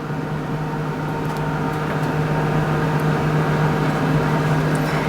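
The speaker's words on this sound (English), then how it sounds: "I've also placed my microwave oven on a preheat" A steady electrical hum drones on without a break, a constant mid-pitched whir of a microwave oven preheating nearby.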